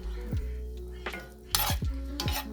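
Roux with peppers and seasonings cooks in a pot for gumbo, giving a steady low sizzle broken by several sharp spoon-against-pot stirring clanks, close and clear with no talking.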